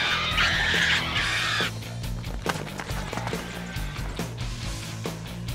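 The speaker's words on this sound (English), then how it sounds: "Fucking crows!" Crows caw in Prince of Persia: Warrior Within, a harsh bright cluster of calls in the opening second and a half, followed by thuds, whacks and a low rumbling game score.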